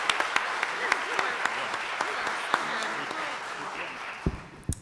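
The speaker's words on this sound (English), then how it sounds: "can we get a round of applause for our panelists" A press conference audience gives scattered applause for a panel, sparse individual claps sounding at uneven intervals, fairly light and thin, with a few sharper claps near the end.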